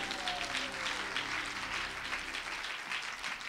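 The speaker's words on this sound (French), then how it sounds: "donne une bonne main d'acclamation, Seigneur" A church congregation bursts into sustained applause, a dense, loud, continuous roar of many hands clapping together that holds steady throughout.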